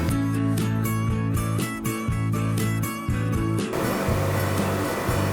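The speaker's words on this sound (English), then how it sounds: "fridge, can you calm down?" A refrigerator hums loudly indoors as a steady tonal drone under broad hiss, with its texture shifting partway through.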